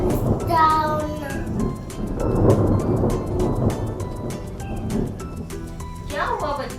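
Steady rain patters with sharp drip ticks while low thunder rumbles underneath, loud and continuous, with a voice briefly mixed in.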